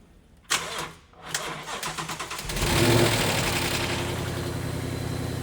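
A damaged Roush Mustang's engine cranks briefly, catches on its first test fire, then rises to a loud, steady idle that stays close and unbroken with no talk over it.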